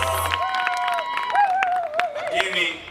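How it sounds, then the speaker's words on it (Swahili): Applause and cheering from a crowd honouring the President at a political gathering in Mbeya, Tanzania, rising in scattered bursts beneath talk and a wavering tonal voice. "Tumpigie makofi Mheshimiwa Rais"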